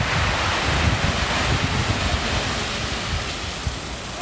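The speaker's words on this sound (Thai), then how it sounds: "คลื่นแรงมากนะพี่น้อง" Strong sea waves breaking on a rocky shore near a tunnel, a loud continuous roar of surf mixed with gusting wind buffeting the microphone, close and unbroken, with no voices.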